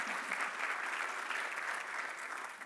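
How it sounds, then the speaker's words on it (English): Steady applause from a press conference audience in Detroit, a dense, even wash of clapping hands held at a constant moderate level for a few seconds, somewhat distant with no talking over it. "Let's give them a round of applause."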